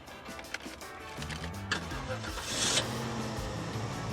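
An early Cadillac Northstar V8 prone to burning oil cranks and fires up, a few seconds of starter churn followed by the engine catching and settling into a steady idle, close and fairly loud with no talk.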